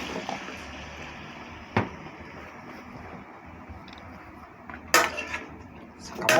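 Eggplant and okra drop into a cooking pot for Pangasinan-style pakbet, giving a few sharp clatters of vegetables and utensil against the pot at intervals over a steady low kitchen background, with no talking.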